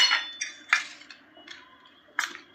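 Raw squid being stirred with ginger garlic paste and cornflour in a metal bowl, giving a string of light clinks and scrapes, with a few sharper taps close by and no talking.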